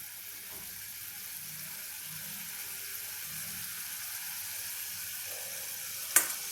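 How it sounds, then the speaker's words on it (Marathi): Spicy Khandeshi shev bhaji gravy boils and sizzles with a continuous close hiss at an even level, then a single sharp click near the end. "यांना आपण एकदा उकळून देऊयात"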